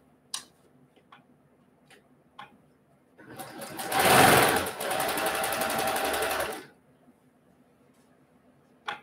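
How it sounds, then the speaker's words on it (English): A sewing machine stitches a quilt seam in one burst of rapid, even mechanical whirring lasting about three seconds, framed by soft isolated clicks and near-silence before and after. "I've used the same sewing machine, so I know exactly how to make sure that all of my seams match."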